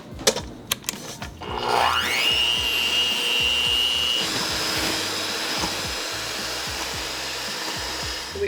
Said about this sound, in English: we're gonna be beating these egg whites until stiff peaks form